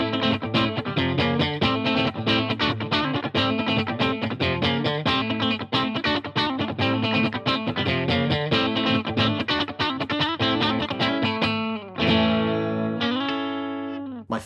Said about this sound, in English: if you coil tap that bridge pickup now, we get a much thinner single coil sound